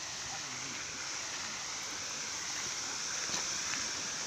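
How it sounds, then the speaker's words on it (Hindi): A waterfall at a biodiversity park in Ranchi gives a steady, broadband rush of falling water that holds evenly throughout, moderately loud with no other clear sounds. "देखो यहाँ कितना सुंदर वाटरफॉल है"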